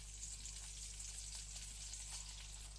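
Browned meatballs sizzling in a frying pan as sauce is added, a steady bright crackling hiss with a low constant hum underneath and no talking.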